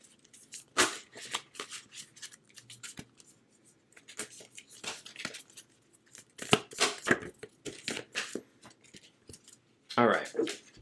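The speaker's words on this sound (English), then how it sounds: "let me pull some oracle cards" Oracle cards are shuffled and pulled by hand, giving close, quiet bursts of riffling and papery flicks in irregular clusters, with a soft voice talking between them.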